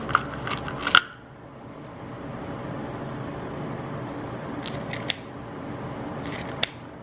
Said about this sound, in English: to cut these up into smaller pieces for her with my kitchen shears